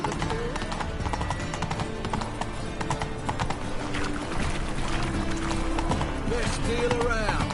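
Hoofbeats of Roach, a horse in The Witcher 3, clop steadily through a city, with game voices talking over them and a brief whinny near the end.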